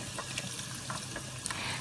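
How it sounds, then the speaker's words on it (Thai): Fish cake strips deep-frying in hot oil until golden, a close steady sizzle with scattered crackles and faint pops throughout, no voices heard. "ทอดให้สีเป็นสีเหลืองสวยนะคะเฉพาะด้านนอกนะคะ"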